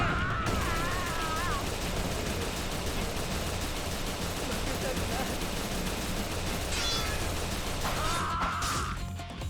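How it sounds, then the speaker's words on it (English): Gunfire in the samurai-era action game Like a Dragon: Ishin, a dense, loud, continuous barrage of shots and crashing impacts with almost no gaps, ending in a brief sharper burst. "Anyway, I'm gonna shoot him."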